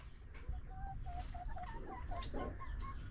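Chickens cluck repeatedly in short, soft calls over a steady low rumble of background noise, several birds nearby at a poultry waterer.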